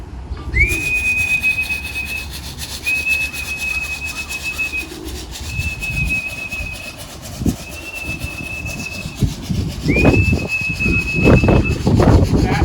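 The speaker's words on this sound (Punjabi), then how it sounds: "ਹੁਣ ਵਿਸਲ ਮਾਰ ਕੇ ਦੇਖ ਲੈਂਦੇ ਜੀ।" Someone blows a whistle to call pigeons back to their loft, giving five long steady blasts of even pitch with short gaps, outdoors with faint rustling and a few thumps toward the end.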